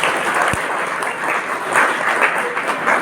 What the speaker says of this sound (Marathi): जोरदार टाळ्या होत्या त्यासाठी